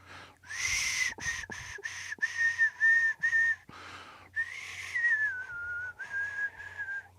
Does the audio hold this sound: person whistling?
yes